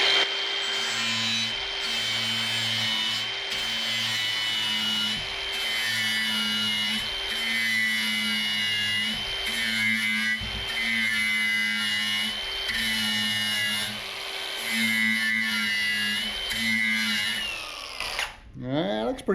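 A hand tool grinds a bevel into the middle of an aluminum piece being prepared for low-heat aluminum welding rods. It makes steady, repetitive rasping strokes up close for about twenty seconds, ending in a brief scraping clatter.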